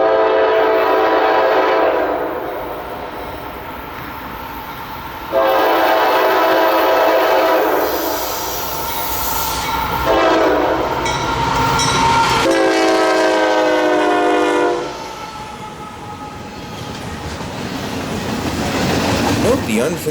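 Norfolk Southern freight train NS 291 speeding through without stops, led by a former C40-9 standard-cab locomotive, sounds its horn in long loud blasts over a steady rumble of passing cars.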